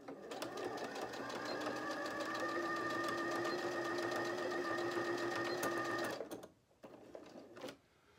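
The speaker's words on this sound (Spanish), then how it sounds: "lo único que hago es coser para adelante y para atrás" Close by, a sewing machine stitches fabric forward and in reverse with a rapid, even mechanical whir for about six seconds, then stops, leaving a few faint clicks and handling noises.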